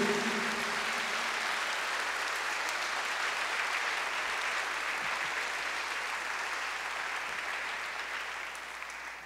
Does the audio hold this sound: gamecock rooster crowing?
no